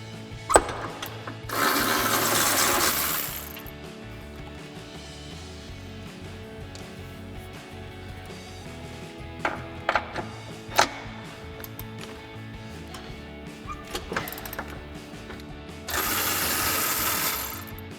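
Bumper mounting nuts being removed from a Jeep Wrangler with a power tool, two sustained bursts of whirring at the start and end, with scattered metallic clicks and clanks of tools in between.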